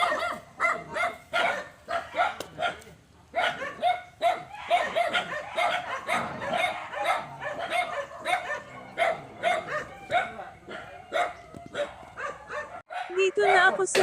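Several dogs bark in repeated short bursts with a few yips and whimpers, near and loud, on a rural property with a green lawn, chickens and a nipa hut, while people talk throughout.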